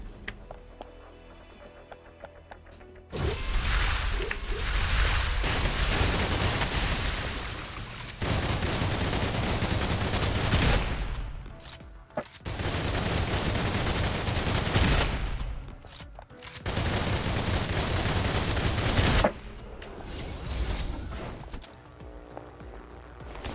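Sustained gunfire in a shooter video game, long loud bursts of rapid shots lasting several seconds each, broken by short pauses, with quieter gaps between volleys.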